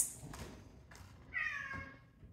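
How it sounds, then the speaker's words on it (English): A single cat meow rises and falls, close by, with a few soft thumps and quiet rustling around it. "Who is that? Who's that meowing?"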